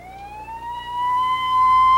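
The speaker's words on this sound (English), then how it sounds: "Ambulance sirens announce the casualties." Ambulance siren wails on a Detroit street, a single rising tone that swells louder and nearer over two seconds and sounds alone.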